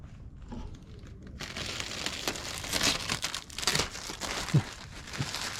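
Protective film is peeled off a Honda Civic headlight up close, making crinkly, crackling plastic sounds with sharper tearing bursts. The peeling grows louder after a quiet start and ends with a few distinct snaps.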